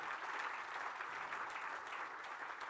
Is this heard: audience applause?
yes